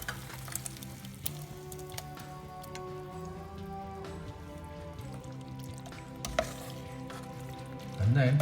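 Cooked pasta and Napoli tomato sauce combined in a pan: a soft, continuous bubbling sizzle with scattered light clicks and scrapes, a louder stirring rumble near the end, no voices.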